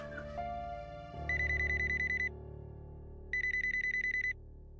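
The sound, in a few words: telephone ringing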